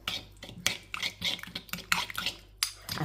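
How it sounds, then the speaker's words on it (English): Spoon stirring honey garlic sauce in a pan, an uneven series of close clinks and scrapes of metal against the pan with short wet pauses, no voices. "Let me just stir this up to see if I want."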